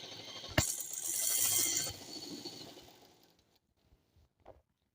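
A sewing machine top-stitches a ladies' pant in one short, buzzing run lasting a little over a second, then winds down into quiet, with a few faint clicks after.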